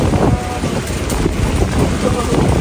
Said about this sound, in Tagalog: ang hangin presko kayo